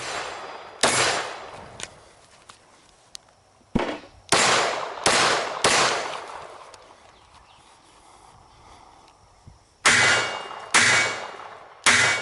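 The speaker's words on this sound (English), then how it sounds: "this is a short-barreled rifle" Loud, sharp gunshots from a short-barreled rifle, fired in irregular bursts of several closely spaced reports with a pause in the middle, each crack ringing out with a short echoing tail.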